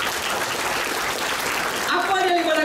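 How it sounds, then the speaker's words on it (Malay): An audience claps together in a short burst of applause at a presentation, a dense wash of hand claps that continues under a voice talking near the end. "Satu tepukan untuk CBB Plus kita."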